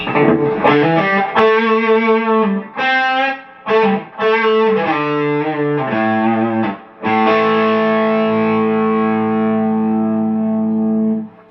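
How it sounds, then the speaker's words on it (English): An electric guitar boosted by a TS808 overdrive pedal through a Two Rock Classic Reverb amp plays a blues rock phrase of gritty, sustained notes and short bursts, ending on a long ringing chord that slowly decays. "I like boosting my tones with the TS808"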